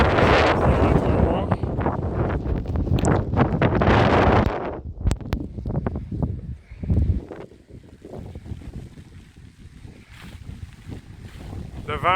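Strong wind roars across the Appalachian Trail near a steep cliff, loudly buffeting the microphone for several seconds, then easing into weaker, intermittent gusts and rustles.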